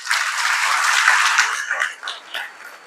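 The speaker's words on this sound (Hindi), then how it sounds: "एक बार खुद के लिए तालियां।" A crowd at a World Tribal Day rally bursts into loud, dense applause that holds steady and then thins into scattered claps.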